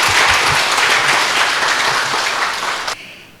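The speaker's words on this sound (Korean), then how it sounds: "여러분 박수로 맞이해 주십시오." An audience applauds to welcome a performer at a concert, dense loud clapping that continues steadily for about three seconds and then cuts off, leaving a faint room tone.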